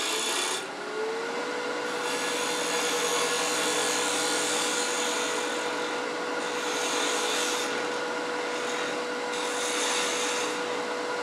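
Wooden Christmas tree ornament spinning on a woodturning lathe while a tool cuts it, giving a steady, continuous scraping hiss over a constant motor hum. The sound runs close and even for the whole stretch, with no voices.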